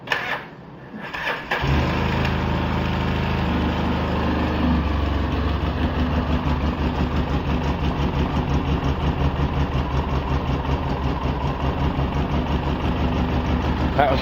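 A Polaris 700 engine on full choke cranks briefly, catches and settles into a loud, steady, throbbing idle that runs on alone and close by for the rest of the clip.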